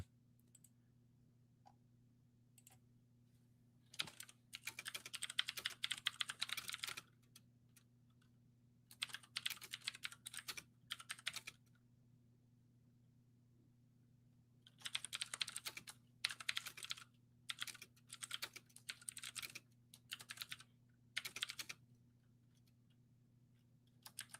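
Someone types on a computer keyboard up close, with quick clattering bursts separated by short pauses, over a quiet steady hum and with no talking.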